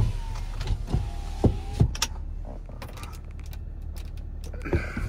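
Power windows on a 2011 Acura MDX whir up and down in short electric motor bursts, punctuated by clicks and creaks from the switches and glass inside the cabin.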